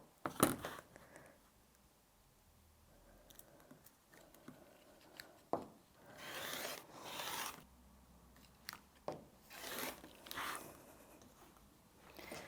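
Scissors cutting 2.5 inch segments from jelly roll fabric strips, a series of short crisp snips and rustles spaced a few seconds apart, close and fairly quiet with no talking.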